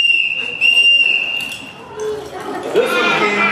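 A whistle made from cow horn from India sounds a steady high shrill tone, held and briefly repeated, up close. Speech runs beneath and after it.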